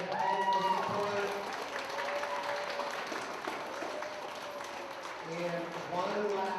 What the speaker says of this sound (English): A round of applause for the teachers for all of their help and support.